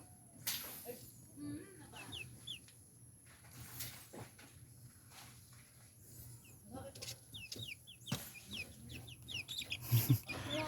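Chickens in a crowded pen cluck softly and peck at a homemade automatic feeder, with scattered light taps and scratches and occasional clucks, faint overall, with no talk.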